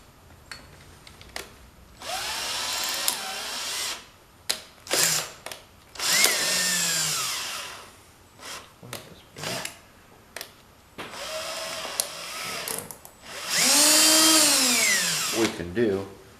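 A power drill spins a bolt in a part from a 1970 John Deere mower deck, whirring in several short loud bursts that rise and fall in pitch, with someone talking between them.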